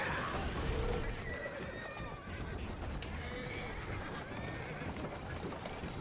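Horse neighing and clopping hooves from the Assassin's Creed Syndicate video game, the whinnies loud and close over a busy, continuous game soundscape with steady hoof beats throughout.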